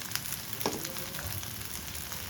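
Mustard oil sizzles and crackles steadily in a pan while eggplant fritters and potato chips fry, with occasional spoon scrapes and pops, close and continuous.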